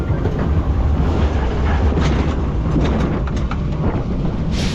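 A loud, continuous rumbling clatter of a roller coaster car on the lift hill at a seaside amusement park, with steady mechanical rattling and low roar throughout.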